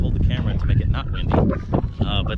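Strong wind buffets the microphone at a marsh on a very windy day, loud rumbling gusts roaring continuously while a person talks over it.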